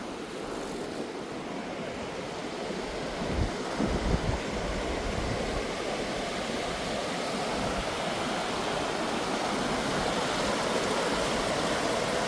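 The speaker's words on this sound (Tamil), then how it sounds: "பாருங்க பாலத்தை கீழால் எப்படி தண்ணி போடுதாண்டு" Floodwater rushes steadily beneath the Vattuvakal bridge after Cyclone Ditwah, a dense, continuous roar with wind buffeting the microphone and no voices.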